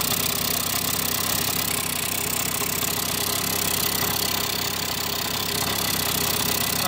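A small KD80 two-stroke engine with a rotary valve idles steadily, a constant loud mechanical drone with a faint rattling knock running throughout, no speech.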